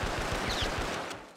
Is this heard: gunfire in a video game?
yes